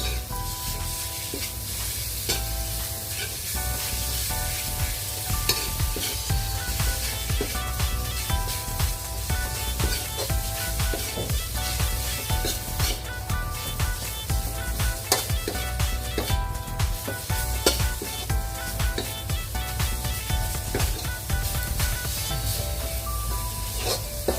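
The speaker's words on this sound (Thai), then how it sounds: "ก็ผัดหมูกับพริกแกงเก็บให้สุก" Steady sizzling and hissing of pork stir-frying with curry paste in a hot pan, with occasional scraping and stirring sounds, continuous and fairly close throughout.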